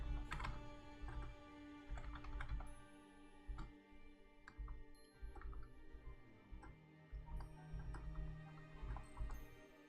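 Keys clatter on a computer keyboard in a dark room during a livestream, an irregular run of close, fairly quiet taps and clicks with no talking.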